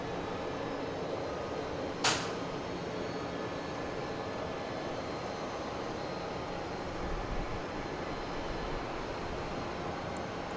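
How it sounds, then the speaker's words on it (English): A Southwest airliner arriving from Sacramento at Dallas Love Field at night gives a steady, distant roar, with one sharp click partway through and no voices. "So there's the flight from Sacramento"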